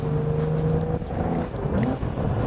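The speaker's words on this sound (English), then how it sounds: "That crackle on overrun is just intoxicating." A Porsche 911 GTS (992) engine droning and shifting pitch, with sharp exhaust crackles and pops on overrun as it comes off the throttle.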